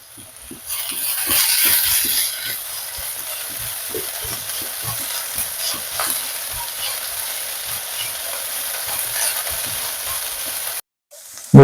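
Minced garlic and ginger sizzle in a pan with half-fried beetroot and kohlrabi, a steady bright frying hiss with repeated scraping stir strokes, close and continuous, cutting off abruptly near the end.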